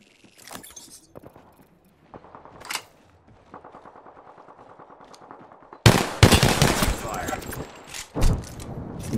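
Video game gunfire: scattered shots and a steady rattling burst early on, then a loud dense barrage of automatic fire near the end, with some voice chat mixed in.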